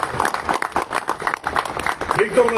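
Applause from an audience at a school anniversary celebration for a national college, irregular clapping bursts mixed with crowd noise and some voices throughout.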